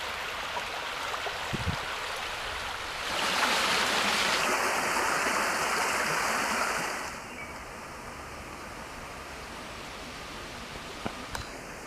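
Stream water flowing near a campsite in North Devon, a steady broadband rush that swells louder for a few seconds in the middle before settling back to a constant babble, with a faint high whine partway through.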